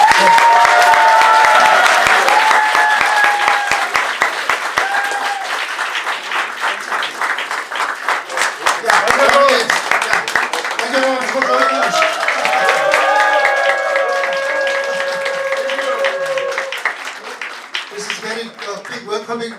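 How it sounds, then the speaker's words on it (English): Welcoming applause from the audience at an election-observation press conference in a Seoul press center: steady, full clapping sustained throughout, with a voice talking over it and fading slightly toward the end. "Welcoming applause to you."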